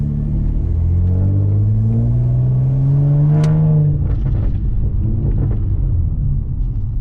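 Tuned Nissan Maxima engine at a car meet, a deep, loud rumble that climbs steadily in pitch as it revs for a few seconds, then drops back to a rough, throbbing idle heard from up close.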